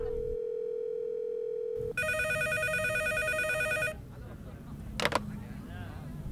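A public phone booth telephone rings with a bright electronic trill for about two seconds after a steady tone, followed by a brief click and room noise.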